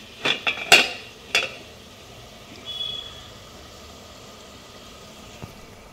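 A metal lid is set over a pot of egg and potato curry with bubbling gravy, giving a few sharp clanks and rattles close by, followed by a faint scrape and quiet background.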